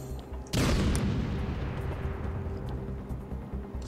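A grenade detonates in Batman: Arkham City, one sudden loud boom that rolls out into a long rumbling decay, with no voices over it.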